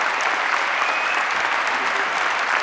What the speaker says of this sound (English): Give Darrell Clark a huge round of applause